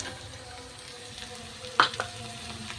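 Soaked chana dal frying with onions in a pan gives a faint, low hiss, broken near the middle by a couple of quick utensil clicks as it gets stirred.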